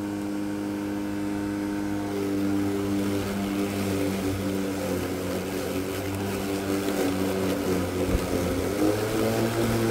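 Greenworks 40V 16-inch battery lawn mower running, a steady electric motor whine and hum that rises in pitch and intensity as it ramps up, close and continuous with no talking.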